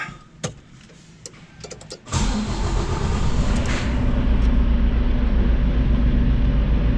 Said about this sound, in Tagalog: start up my truck.